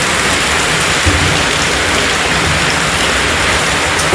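Heavy rain pours down steadily, a loud, dense, continuous hiss of drops on surfaces nearby with no voices.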